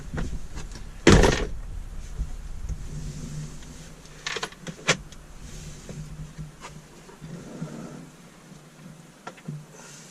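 Plastic rattling and knocking as a cabin air filter is pulled from its housing in the far corner of a Nissan Pathfinder interior, with a loud scrape near the start, then a few clicks and rustles close by.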